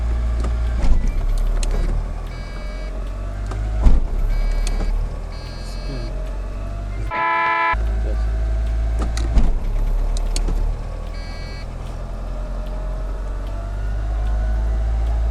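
A Chery Cross Eastar's engine idles with a low steady rumble as gears are checked, with clicks and clunks from the cabin and a brief whirring electric tone in the middle.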